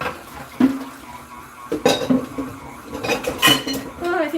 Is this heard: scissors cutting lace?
no